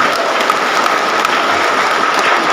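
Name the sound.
crowd applause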